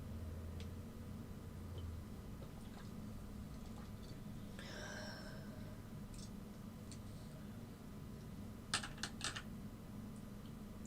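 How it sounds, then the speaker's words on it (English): Light, scattered keystrokes on a computer keyboard, faint and sparse at first, then a quick cluster of sharper clicks near the end, all over a quiet room hum with no one speaking. "I wasn't doing anything but typing."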